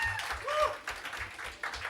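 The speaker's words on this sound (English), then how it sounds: "Big round of applause for Mr. Scott Hines for putting this together" Applause from an audience, steady dense clapping with a low rumble underneath, moderately loud and continuous throughout.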